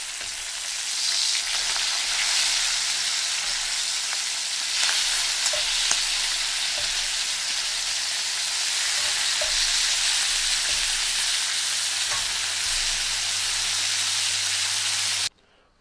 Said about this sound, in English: I'm cooking some bacon